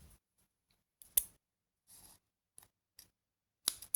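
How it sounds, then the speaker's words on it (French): Scissors snip a small piece of paper in a quiet room, a few short sharp cuts and clicks spaced apart, close and soft. "je prends mon ciseau et je coupe le petit morceau"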